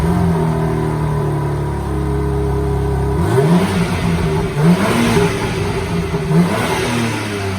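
A 2023 BMW M4 with its stock exhaust starts up and idles steadily before several sharp revs rise and fall, loud and close, with no talking.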